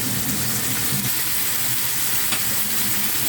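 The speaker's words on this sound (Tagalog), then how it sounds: "Lutuin ko lang yung kamatis para lumabas yung kanyang lasa." Tomatoes sautéed in a pan after garlic and onion for chicken afritada give a steady, close, bright sizzle throughout, with faint stirring scrapes.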